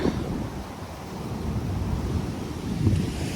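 Steady gusty wind buffeting outdoors at a spillway, cold, a constant low rumble with slight swells, near water, with no voices.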